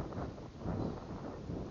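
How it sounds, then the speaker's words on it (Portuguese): Outdoor wind buffeting a microphone at a shooting range, a faint steady low rumble with gentle surges and no voices. "o vento fica ruim pra caramba"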